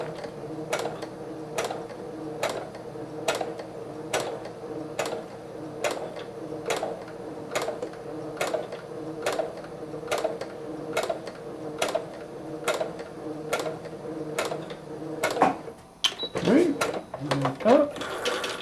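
A Brother CS6000i sewing machine stitches a quarter inch seam with an evenly spaced, steady mechanical ticking, close and clear, stopping near the end amid brief handling clatter.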